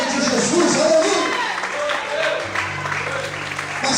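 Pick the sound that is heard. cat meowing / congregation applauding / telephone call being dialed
congregation applauding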